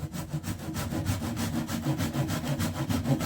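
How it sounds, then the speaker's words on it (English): A handsaw cuts small wooden plugs flush on a wooden keepsake box in steady, rapid back-and-forth strokes, close and continuous with no talking. "Just cut the little plugs off like that."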